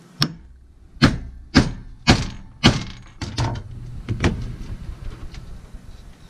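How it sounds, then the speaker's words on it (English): A rivet being set in a leather hand saw case with repeated hammer strikes on a bar: five or six sharp, loud pounding blows in an uneven rhythm, then lighter taps and faint scraping near the close. "Sorry for the pounding."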